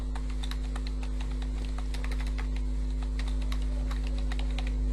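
Quick, close keystrokes on a computer keyboard as a file name is entered in Microsoft Word, a busy patter of clicks over a steady low electrical hum, with no voices.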